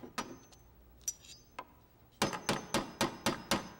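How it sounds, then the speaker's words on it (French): Sharp metallic knocks, a few scattered hits followed by a quick steady run of six hammer strikes, close and clear with no talking. "Est-ce que c'était le bruit de mon marteau?"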